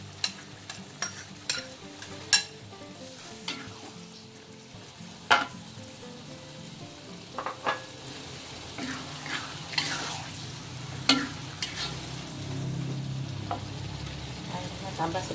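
Bamboo shoots fry and get stirred in a pan with a steady low sizzle, broken by sharp clicks and scrapes of a utensil and some watery splashing, all close by with no voices.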